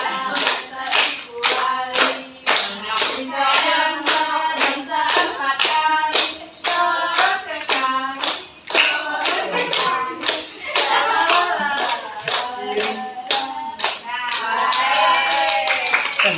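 Classroom of students clapping hands together in unison during a micro-teaching lesson, a steady run of loud, rhythmic claps lasting throughout, with a teacher's voice and children's voices mixed in.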